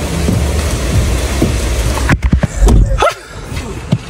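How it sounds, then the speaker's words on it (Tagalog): Heavy rain pours steadily close by, then gives way abruptly to a quieter space with a few knocks and thumps. "Naku, tong ulan na to."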